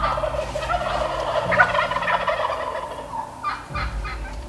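Wild turkeys gobbling from the roost in early morning, several rolling gobbles overlapping at moderate distance in an otherwise quiet woodland.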